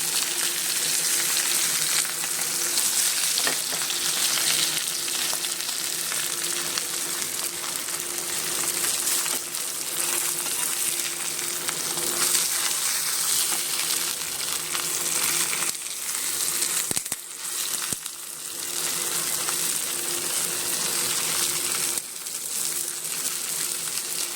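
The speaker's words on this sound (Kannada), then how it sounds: "ಸ್ವಲ್ಪ ಚೆನ್ನಾಗಿ ಫ್ರೈ ಆಗಲಿ." Rava-coated fish shallow-frying in a pan, Karavali style, with a steady, dense sizzle that holds loud and close throughout, dipping briefly near the end.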